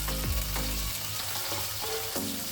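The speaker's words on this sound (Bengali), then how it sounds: "তেলের সাথে ভালোভাবে ভেজে নেব।" Ground spice paste fries in hot oil with onions, cardamom and whole spices while it is stirred, a steady loud sizzle with soft scraping, heard alone.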